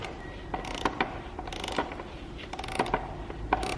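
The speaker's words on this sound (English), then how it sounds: "We can just go at 8mm socket and tighten our Jubilee clip." An 8mm socket on a ratchet tightens a Jubilee hose clip on a Ford Transit Connect induction kit, a series of quick close clicking ratchet bursts with short pauses and no talking.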